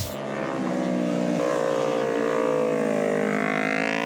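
A high-revving Yamaha R3 racing motorcycle engine screams steadily and loudly close by, its pitch climbing gradually as it accelerates.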